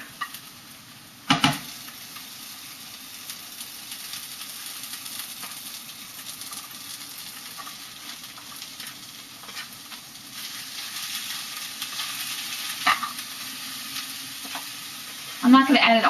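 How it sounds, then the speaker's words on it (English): Pork frying in a pan for iridofu, a continuous sizzle with occasional louder bursts and scraping stirs, heard up close without talk. "I'm now about to add the pork."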